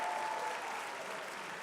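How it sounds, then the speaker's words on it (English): Audience applause at a game finals event, a steady wash of clapping from a crowd heard at moderate distance, fading slightly but continuing throughout. "Let's give one little round of applause for them as well."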